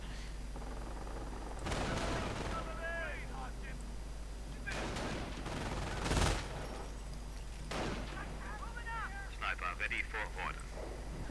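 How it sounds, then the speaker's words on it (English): Gunfire and explosive booms from a World War II strategy game battle, with an MG42 machine gun and artillery, bursts recurring across the clip over steady background hum with voices speaking throughout. "rather than getting suppressed by the MG42"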